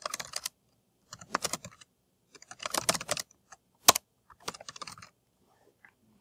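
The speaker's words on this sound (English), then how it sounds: "They edit the note, and then they can type in there so they can answer." Typing on a computer keyboard while answering a note in a classroom app: irregular bursts of close, crisp key clicks separated by short pauses, with no talking.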